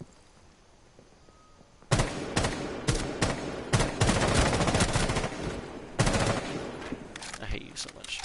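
Rapid automatic gunfire in a first-person shooter, loud bursts and sustained strings of shots starting after a quiet lead-in, close and dense with brief gaps between volleys.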